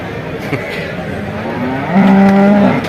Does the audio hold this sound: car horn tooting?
no